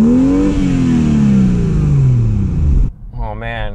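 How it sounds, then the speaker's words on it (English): A tuned 2016 BMW 340i xDrive's turbocharged inline-six revs loudly, its pitch sweeping up then falling away with turbo spooling, before easing off into a lower idle at the end. "that inline six with the turbo spooling, I don't know if you can hear that"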